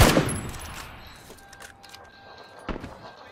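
Gunfire in an online shooter video game: a sharp burst of shots up front, then scattered distant pops and cracks, with another loud shot near the end.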